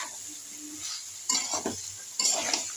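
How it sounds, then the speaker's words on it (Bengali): Okra sizzles as it fries in a pan, with two louder bursts of stirring and scraping over a steady background hiss; no voices. "ভেন্ডি ভাজি করতেছি।"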